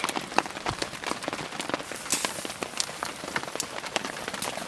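Rain falls steadily on a solo overnight camp under a canoe, a dense, close patter of drops with scattered louder individual hits and no talking.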